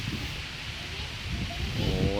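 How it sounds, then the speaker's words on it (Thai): Strong wind roars over a mountaintop by a temple with wind turbines, a steady low rushing buffet against the microphone throughout, with a voice speaking faintly near the end. "โอ้ยลมขนาดเลย"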